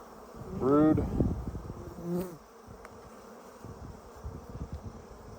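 Honeybees humming around an open hive during a brood frame inspection, a soft continuous buzz with a louder, closer pass near the start and small rustles and knocks throughout.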